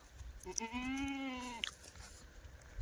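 A single Kathiawadi goat gives one clear, drawn-out bleat lasting about a second, close by and alone with no talk over it.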